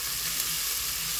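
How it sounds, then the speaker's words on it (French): Potatoes sizzle and crackle as they are turned in hot oil in a pan at the start of a mixed summer vegetable curry, a close, steady frying hiss with no voices. "je vais ajouter mes pommes de terre en premier. Je vais les tourner un petit peu dans l'huile."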